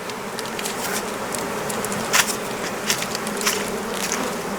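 A dense, steady buzzing of many honey bees around their queen during hive installation, close and continuous, with a few brief louder passes.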